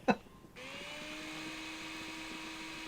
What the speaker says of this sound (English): taking orange juice and then orange juice, putting it into a blender, pops out a different type of juice